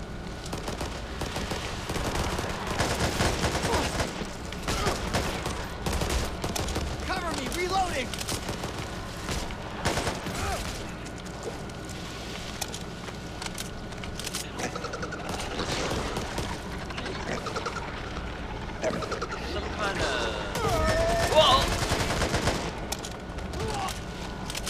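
Rapid gunfire in the zombie shooter Back 4 Blood crackles in repeated bursts and volleys across the whole stretch, mid-distance and fairly loud, with occasional player voices talking over the shooting.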